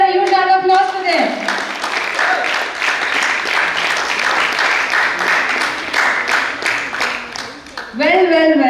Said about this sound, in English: Can we hear a huge round of applause for them?